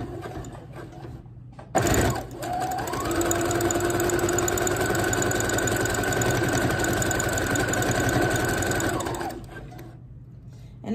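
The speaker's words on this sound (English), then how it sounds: "we're gonna sew a straight line all the way down." Sewing machine stitching a straight line down sock fabric, starting with a clunk and then running as a loud, steady mechanical whir that stops after several seconds.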